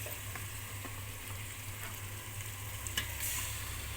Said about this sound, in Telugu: మనం చికెన్ ఉండే గిన్నెలో ఇప్పుడు మనం వేసుకోవాలి. ఇప్పుడు మనం చికెన్ వేసేసుకున్నాం.